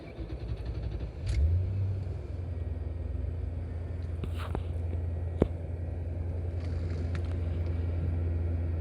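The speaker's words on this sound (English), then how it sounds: "let's see what happens when we try to start the car" A 1999 Lincoln Town Car engine catches close by and settles into a steady, low idle rumble that continues unbroken to the end, with a brief sharp click partway through.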